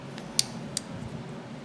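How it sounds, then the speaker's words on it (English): Scissors on a Leatherman Wingman multi-tool snipping twice, two crisp, close, separate cuts against a quiet background. "The Wingman has scissors, which I use all the time."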